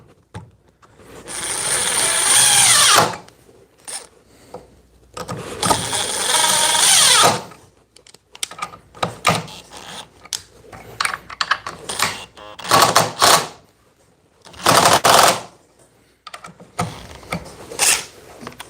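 A Dewalt DCF870 impact driver with T30 bits drives brand-new GRK screws in two long, loud bursts, followed by shorter stuttering pulses and clicks of handling, close by with no talk.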